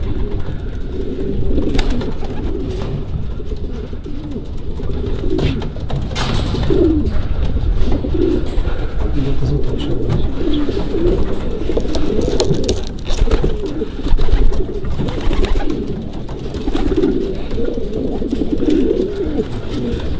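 Breeding male pigeons coo continuously in a loft, several birds overlapping in a dense, close, steady rumble of low coos with occasional wing flutters.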